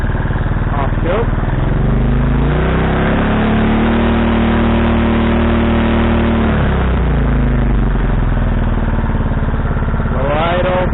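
A small Honda engine on a water pump, revived after sitting, runs loud and close after being taken off choke, its steady drone dipping and lifting in pitch as the speed settles.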